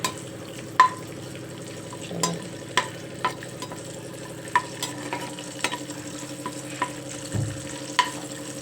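Mint leaves frying in hot oil for stuffed brinjal curry, with a steady soft sizzle under repeated sharp spatula scrapes against the pan at close range, no voices.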